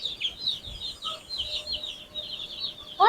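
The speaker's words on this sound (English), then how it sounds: "This is definitely the feistiest bunch of little meat birds that we've ever got." Young meat chickens in a brooder give a steady stream of high, overlapping peeps and chirps, close and continuous, with one sharper call at the end.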